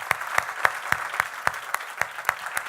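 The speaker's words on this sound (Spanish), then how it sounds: "Le damos un aplauso al Señor por ser nuestro papá." A church congregation claps in unison during a sermon, giving about ten sharp, evenly spaced claps in quick rhythm, close and clear with no talk.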